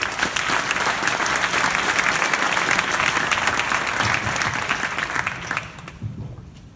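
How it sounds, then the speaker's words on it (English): A startup summit audience in The Hague gives a loud, dense round of applause for two founders, many hands clapping steadily before it tapers off and fades near the end. "Please give us your thunder clap"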